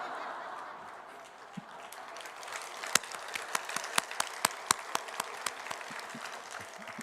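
A church audience applauds a speaking elder with sparse, faint hand claps that thicken into a scattered round of sharp claps, heard from a distance.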